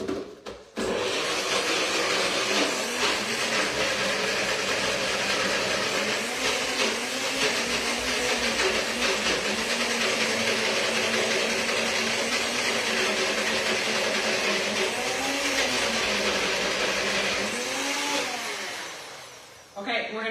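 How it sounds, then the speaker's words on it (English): A blender whirs loudly and continuously while blending strawberry ice cream, a sustained motor roar with slight pitch wobbles from the blades, winding down at the end. "So we're going to blend this up inside of the blender to make our ice cream."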